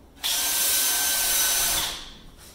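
A power sander on walnut whirs on abruptly, runs steadily for under two seconds with a gritty rasp, then winds down and stops.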